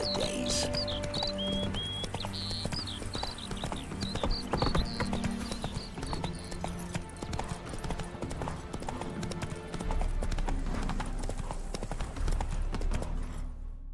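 Roach, Geralt's horse in The Witcher 3: Hearts of Stone, with clopping hooves running through a steady, loud game mix; birdsong chirps near the start.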